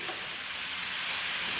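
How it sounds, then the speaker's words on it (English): Carrot halwa stirred in ghee in a pan over a medium flame, giving a steady, close hiss and sizzle that holds evenly throughout, with no talking. "now I'm going to just mix it well with the ghee"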